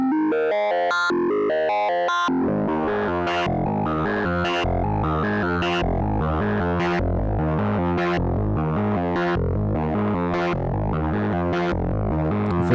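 Noise Engineering Cursus Iteritas synthesizer module with audio-rate modulation, loud buzzing, distorted tones in a fast repeating sequence of pitched notes, with no pauses throughout.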